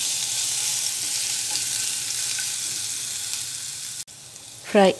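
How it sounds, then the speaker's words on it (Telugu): Ginger garlic paste frying in hot oil for an egg roast, a loud, dense, continuous sizzle close by, cutting off near the end just before a brief voice is heard. "ఇది పచ్చివాసన పోయే వరకు బాగా ఫ్రై చేసుకోవాలి"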